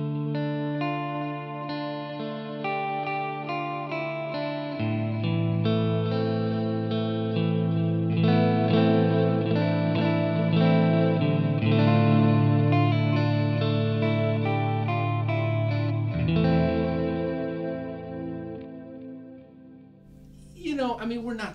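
Electric guitar through a budget pedal board set for an ambient, chorus-like modulated tone, a dense wash of sustained chords played continuously and fairly loud for about twenty seconds, shifting harmony partway through before fading near the end.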